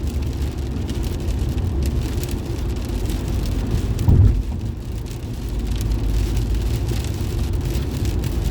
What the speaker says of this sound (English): Wow, rain's getting heavier yet.